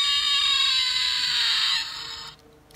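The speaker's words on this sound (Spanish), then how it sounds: "Que es el sonido de este Velociraptor electrónico." A shrill, sustained electronic screech from a Kenner Jurassic Park Series 1 electronic velociraptor toy, harsh buzzing tone, loud and close, fading after about two seconds and then cutting off.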